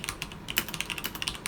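Rapid, steady typing on a Corsair Strafe mechanical keyboard with Cherry silent red switches, soft muffled key presses in a quick uneven rhythm, close and fairly quiet.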